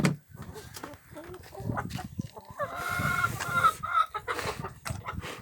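Chickens cluck and squawk close by in a busy burst in a garden, with a few sharper higher calls partway through and rustling underneath.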